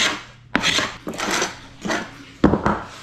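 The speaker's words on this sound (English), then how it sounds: "we're gonna start right here with a little heat and scraping" Repeated rough scraping strokes rasp against wood, about four or five passes at an uneven rhythm, close and moderately loud, as heat-softened old finish is scraped off a wooden boat deck.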